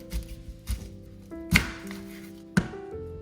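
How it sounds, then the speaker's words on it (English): An onion being cut into big chunks with a knife on a board, a few sharp, spaced chops landing irregularly with short pauses between, close and clear, no talking. "We're just gonna chop it in big chunks"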